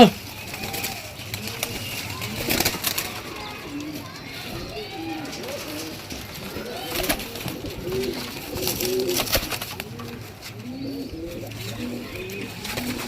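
Pigeons offered for sale at a market, cooing in repeated soft throaty rolls close by, mixed with background chatter and children's voices throughout.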